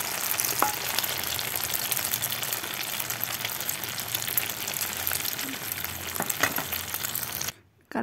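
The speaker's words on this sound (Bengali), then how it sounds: "কালো জিরা ভেজে নিচ্ছি" Black cumin seeds frying in a pan give a constant close crackling sizzle with occasional stirring clicks, steady for about seven seconds before cutting off abruptly near the end.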